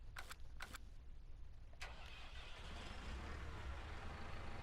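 A diesel tractor engine in Farming Simulator 19 cranks with a few sharp starter bursts, then catches and settles into a steady, low idling rumble; no voices.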